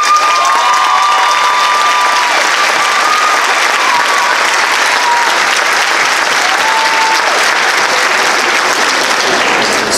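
At a high school commencement, a large crowd in a hall gives sustained, loud applause for graduating honor students, a dense, continuous roar of clapping with faint cheers and shouts mixed in throughout.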